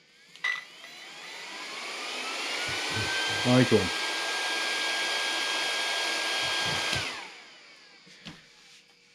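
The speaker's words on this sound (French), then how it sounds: "Recheck, parce que là il faut voir si on n'a pas bloqué le ventilo." The cooling fan of an Arrma Fury 3S RC car with a 3800kV motor spins up into a steady high-pitched whir that holds for several seconds and then winds down, with a few clicks and brief talk nearby.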